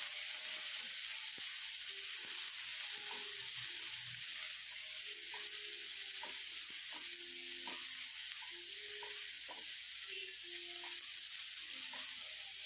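Vegetables for stir-fried indomie noodles sizzle steadily in a hot pan, a constant hiss broken by light scraping clinks of stirring.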